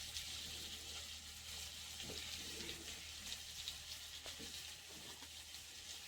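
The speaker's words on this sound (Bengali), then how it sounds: "দিয়ে একসঙ্গে সব সবজি মশলার সঙ্গে ভেজে নেবো ভালো করে।" Mixed vegetables with spices fry in a pan, giving a steady close sizzle with occasional stirring scrapes and no talking.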